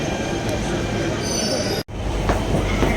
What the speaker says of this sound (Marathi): लगेच ट्रेन पण आली ही बघा जाम फास्ट काम आहे